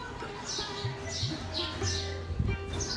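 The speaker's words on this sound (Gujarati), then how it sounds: "ફક્ત પક્ષીઓનો કલરવ જ તમને સાંભળવા મળે" A bird repeats a high, thin chirp about five times at a steady pace, moderately distant, at a quiet ashram in Satadhar, over a low hum and occasional soft knocks.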